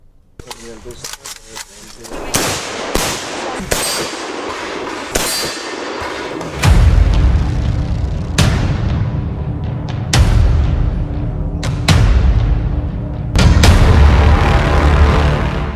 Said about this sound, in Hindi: ये रूस में उत्तरी ओसेशिया है और यहां इस फायरिंग रेंज में बच्चे दुनिया के सबसे खतरनाक असॉल्ट राइफल चला रहे हैं।